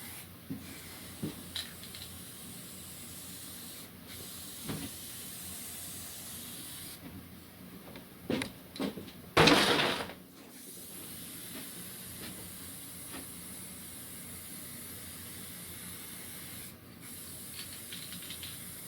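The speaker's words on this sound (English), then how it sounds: "This one I like to spray the edges." A quiet hissing spray bursts for about a second from a spray paint can, spraying the edges of a piece of spray art, with faint rustles and small clicks scattered around it in an otherwise hushed room.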